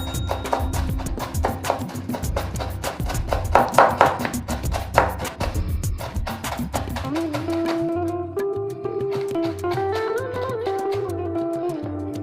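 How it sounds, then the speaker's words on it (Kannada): A knife finely chops curry leaves on a board for a chana dal namkeen mixture: rapid, even taps that run steadily with a faint tonal background hum. "ಈ ಕರಿಬೇವಿನ ಸೊಪ್ಪನ್ನ ಸಹ ಚೆನ್ನಾಗಿ ಫೈನ್ ಆಗಿ ಕಟ್ ಮಾಡ್ಕೊಳ್ಳೋಣ"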